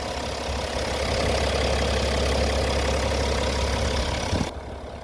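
A BMW F11 535xd diesel engine idling, a steady low rumble with a light mechanical clatter, fairly close and even, dropping away just before the end.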